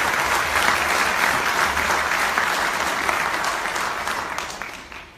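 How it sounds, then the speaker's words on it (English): Conference audience at a OneCoin event in Lisbon applauding: dense, sustained clapping from a large crowd that holds steady and then tapers off toward the end. "Give them a big round of applause, please."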